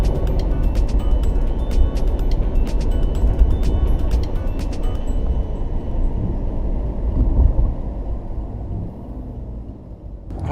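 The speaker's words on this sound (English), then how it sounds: "as you can hear now, we're driving on electric only, and obviously quite quiet, as most electric cars are." A GM electric car driving on electric power only, with a low, steady road and cabin rumble and wind noise and no engine note, staying fairly constant before easing near the end.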